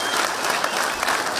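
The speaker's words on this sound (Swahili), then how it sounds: "Wapi makofi kwa His Excellency." A crowd gives a steady, dense burst of applause for the governor at an outdoor gathering of boda boda riders in Gatundu South, with the clapping sustained and loud throughout, no voices standing out.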